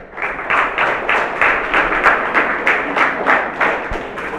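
An audience at a Tamil talk on youth patriotism bursts into steady applause, dense rhythmic clapping that stays loud and even throughout with no voices over it.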